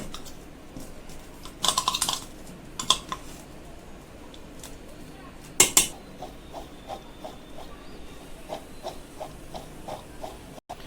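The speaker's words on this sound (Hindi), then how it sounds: "इस तरह से इसको मिक्स करना है कॉर्नफ्लावर डाल करके।" Corn kernels are stirred with cornflour in a kitchen vessel, giving soft clinks and scraping taps in a steady rhythm, with a few louder metallic knocks near the start, all close by.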